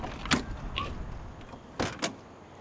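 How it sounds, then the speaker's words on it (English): The door of a 1967 Chevrolet Corvette L71 with a 427 V8 is opened up close: a sharp latch click, then a pair of quick clunks a moment later, with no talking. "the doors open like a brand new Corvette"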